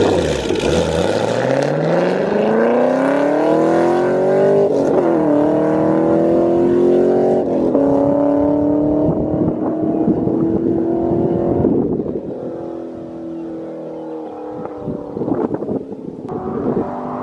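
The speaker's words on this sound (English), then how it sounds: "There's nothing more satisfying than accelerating and just banging gears out in Mexico." Chevrolet Camaro SS 1LE pulling hard through the gears on a road in Mexico, its engine note climbing, breaking briefly at each upshift and climbing again, loud and close before easing off toward the end.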